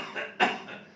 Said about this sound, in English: if a patient coughs, this is 2 paroxysms.